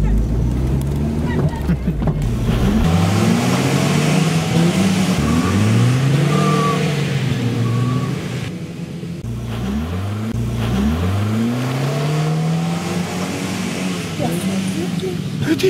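A car pulls away near a river, its engine revving and rising in pitch through several gear changes as it accelerates off, loud and close at first and carrying on steadily throughout.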